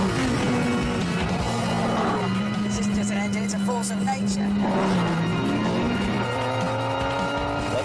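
A V12 car engine roars under load and revs while driving, loud and continuous, with rising and falling pitch as it accelerates; someone talks over it.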